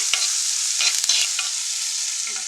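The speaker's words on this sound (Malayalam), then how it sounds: "വലിയ ഉള്ളിയും കറിവേപ്പിലയും അതൊന്ന് ഇട്ട് കൊടുത്ത് നന്നായിട്ട് വാട്ടിയിടാൻ" Sliced onions and curry leaves sauté in a clay pot with a steady, close sizzle and a few brief stirring scrapes.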